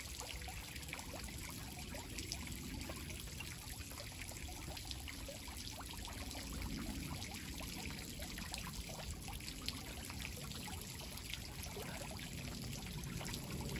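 Water trickling and pouring out of a homemade pond filtration system, a steady continuous splashing stream heard quietly and alone for the whole stretch.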